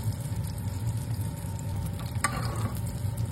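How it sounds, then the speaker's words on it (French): Rainbow trout fries meunière style in hot melted butter while being basted, giving a steady close sizzle and crackle with a brief spoon clatter partway through. "il est important de venir arroser le poisson avec le beurre fondu bien chaud pour pouvoir nourrir le poisson pendant la cuisson"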